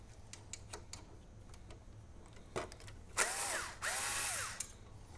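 A small screw on the ground wire of an audio interface's rear panel is being unscrewed, giving a few quiet ticks followed by two short, louder bursts of driver whirring close by.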